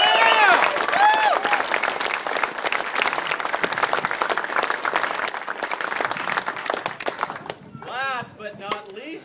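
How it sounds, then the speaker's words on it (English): Applause from an awards-ceremony audience at the 24 Hours of LeMons race awards, a loud, dense wash of clapping that runs steadily and fades toward the end, where a voice begins speaking. "Another round of applause."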